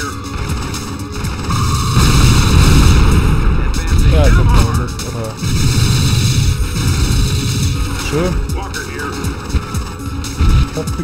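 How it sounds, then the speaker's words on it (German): A Tiberium Raptor unit explodes in the strategy game Command & Conquer: Twisted Insurrection, a loud rumbling boom with crackling debris and layered game effects over several seconds, with a voice talking over it. "Dann explodiert dein Tiberium Raptor."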